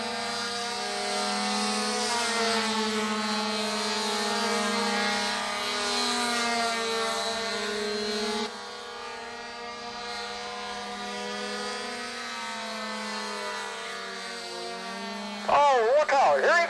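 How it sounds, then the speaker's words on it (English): Aerobatic propeller planes fly a three-plane dogfight, trying to cut streamers off each other's tails. Their engines form a steady, droning hum with a strong tonal pitch that holds throughout, then a brief louder surge near the end. "But out of all the aerobatic flying maneuvers shown off, one of the most daring was this three-plane dogfight."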